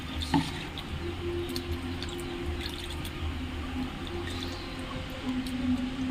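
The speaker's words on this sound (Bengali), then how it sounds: "আর একবার আমি এটা ভালো করে ধুয়ে নেব।" Flattened rice (chira) being rinsed in a bowl of water, with soft wet squishing and light drips and sloshes running steadily throughout, close and fairly quiet, with no talking.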